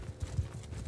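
Horse hooves clip-clopping in the Mount & Blade battle game, a quick run of low, muffled hoofbeats at an uneven gallop rhythm, moderately close and heard without speech.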